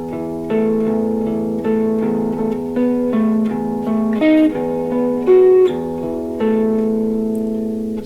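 Electric guitar slowly playing a passage from a tune, clear sustained notes and chords with some reverb, moving at a relaxed pace; no talking.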